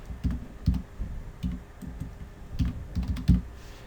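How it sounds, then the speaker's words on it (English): Keys clacking on a computer keyboard as a name is typed in an online form, an irregular run of close, distinct clicks in short bursts with brief pauses, no voices. "I'm going to type my name."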